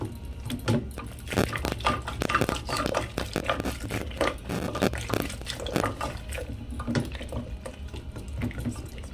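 Boiled bottle gourd mashed with a fork for lau payesh, giving a run of wet, squelchy scrapes and soft taps against the bowl, close and steady, with no voices.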